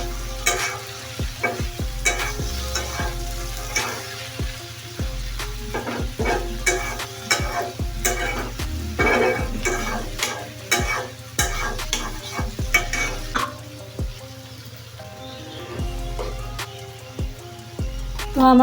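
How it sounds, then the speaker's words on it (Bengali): Pointed gourd and potato bhaji fries in oil in a pan. A steady close sizzle is broken by frequent rhythmic scrapes and knocks of a spatula stirring against the pan. "আমি আরেকটু ঢাকনা দিয়ে একদম সুন্দর ভাজা ভাজা করব"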